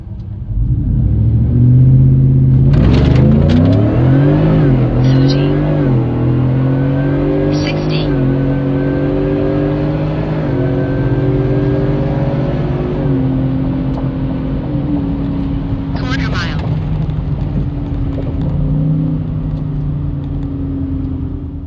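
A Foxbody car accelerating hard on a drag strip run at the track, its engine a loud, close, sustained roar that climbs through gear changes and holds a steady drone.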